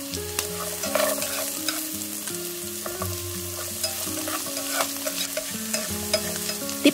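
Chinese sausage and carrot stir-fried in a pan with oil and garlic, giving a continuous sizzle with frequent spatula scrapes and clicks, over a low steady tonal background.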